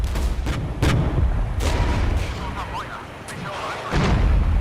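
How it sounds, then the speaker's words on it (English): Tank cannon fire in the strategy game Regiments comes as booming shots and explosions, several sharp reports within a few seconds over a rumbling battle bed, with talk over it. "But the tanks are firing away."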